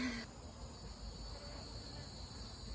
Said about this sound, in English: You can tell the bees are getting a little bit more upset here